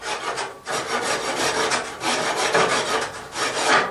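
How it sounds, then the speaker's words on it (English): A hand rasp filing excess wood from a hunting knife handle, a coarse rhythmic scraping in steady back-and-forth strokes, close and loud with no talk. "The other way you can remove excess wood a little faster is get a rasp like this."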